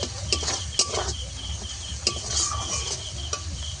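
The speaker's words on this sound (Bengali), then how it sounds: "মশলা আমি কিছুক্ষণ আবারও কষিয়ে নেবো যতক্ষণে না ভালোভাবে তেল ছেড়ে যায় মশলা থেকে" Spice paste is stir-fried in oil in a pan for a fish curry. A low sizzle runs under light scraping and clinking of a spatula against the pan, close up.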